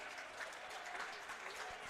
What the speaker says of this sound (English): the fans will give them a little bit of a clap there